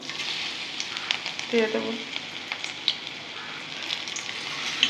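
Jute leaf fritters bubble and sizzle in hot oil with a steady, close hiss, and someone speaks briefly over the frying.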